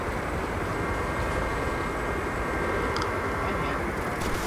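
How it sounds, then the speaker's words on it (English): An enemy helicopter in Resident Evil 6 keeps up a steady, loud rotor and engine roar with no breaks, and a few faint clicks sit on top of it. "Oh man, bad guys in a helicopter."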